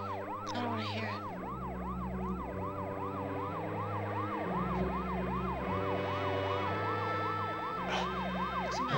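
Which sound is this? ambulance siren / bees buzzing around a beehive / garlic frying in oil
ambulance siren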